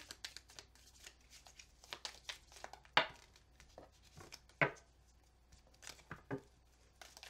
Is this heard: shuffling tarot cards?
yes